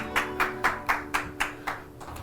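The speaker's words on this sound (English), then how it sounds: "camera guys, I feel like you can do better at clapping" Sparse audience clapping at a music video shoot, about eight separate claps in a loose slow rhythm, fairly close and quiet, with no talk.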